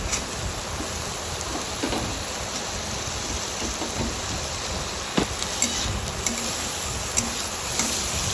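Chopped tomato goes into a hot frying pan while vegetable chow mein is being made, giving a steady loud sizzle with light stirring and a few sharp clicks toward the end.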